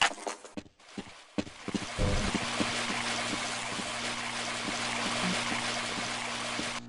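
Water trickles and runs steadily in a flooded locker room in Half-Life: Blue Shift, a continuous broad wash with a low hum beneath and a few knocks at the start.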